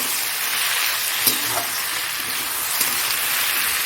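Ground spices hit hot oil in a frying pan with potatoes, ginger and garlic paste, and cumin-coriander powder, giving a loud, steady hiss with a couple of soft stirring knocks.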